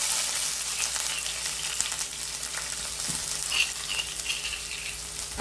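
Ginger garlic paste fries in hot oil in a pan for a homemade mango pickle, giving a steady, close sizzle with a few faint stirring scrapes.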